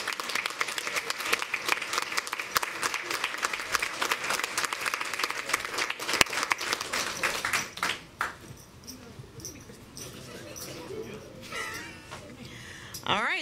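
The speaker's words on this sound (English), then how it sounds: "Let's give them a round of applause as they come up." Sustained audience applause at a school board of education meeting honoring relay teams, dense clapping for about eight seconds before fading into quieter room murmur and scattered sounds.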